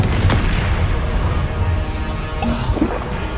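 Confringo blasting spell exploding in Hogwarts Legacy, a dense rumbling blast with scattered pops and crackles filling the short stretch of combat noise.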